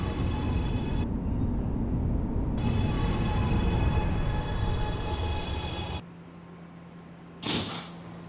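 A Kawasaki R211A subway train in the OpenBVE train simulator rumbles steadily with low mechanical drone, then quietens as it settles; a sharp burst near the end suggests doors, with faint electrical hum throughout.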